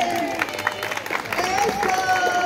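Spectators at a children's race in Sarchí applaud a young participant, a light, loose patter of clapping mixed with crowd murmur and voices.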